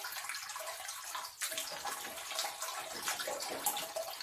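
Water running from a tap to wet a face mask at home, a steady hissing splash with slight shifts in flow, close and moderately quiet.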